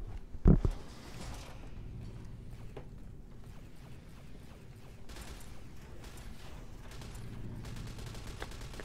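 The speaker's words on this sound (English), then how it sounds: "I guess that's a firing range." Gunfire at a firing range in the video game Fallout: New Vegas: one loud sharp shot near the start, then fainter distant shots and mechanical clatter over low game ambience.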